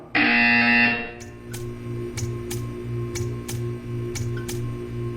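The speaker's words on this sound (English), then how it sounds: "When you hear the buzzer, stare at the art." A loud, harsh buzzer from the Portal 2 video game blares for about a second and then cuts off, leaving a steady ticking with a low hum behind it.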